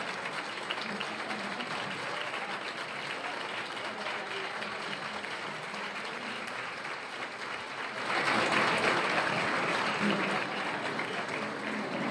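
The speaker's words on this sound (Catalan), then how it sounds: "Aplaudiment general" Sustained general applause from a crowd at a mayoral investiture ceremony in Gandia, a dense steady clapping that swells louder toward the end.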